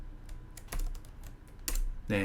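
Computer keys are pressed in a quick, uneven run of crisp clicks, close and distinct, with a couple of heavier keystrokes standing out against a quiet room.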